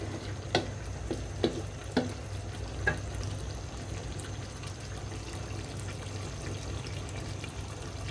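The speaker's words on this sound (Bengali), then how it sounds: "এটা ঢাকনা ছাড়া কষানো হবে।" Chicken for biryani sautés uncovered in a pot, a faint steady sizzle with a few soft stirring clinks and scrapes near the start and no talking.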